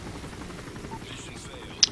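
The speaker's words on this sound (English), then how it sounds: "if you don't take down the chopper quick, it mows you down." A helicopter in the shooter game Modern Warfare 3 Spec Ops throbs as a low, continuous rotor rumble under game noise, ending with a brief sharp high blip.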